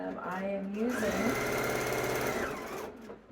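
A domestic sewing machine stitches steadily through a quilted jacket panel, running straight vertical quilting lines in one continuous whirring hum for about three seconds before slowing at the end, with no talking.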